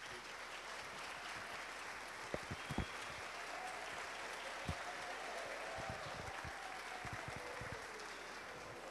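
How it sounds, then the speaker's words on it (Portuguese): Wedding guests applauding a newly married Christian couple at the altar during the ceremony, steady soft clapping spread across the room with a few sharper nearby claps, fairly distant and continuous throughout. "Então vamos aplaudir o novo lar."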